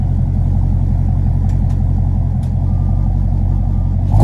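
Muffled, steady low rumble of a 2017 Dodge Charger 6.4L Scat Pack with muffler-delete dual exhaust, heard from inside the cabin at idle, loud and even with a few faint clicks.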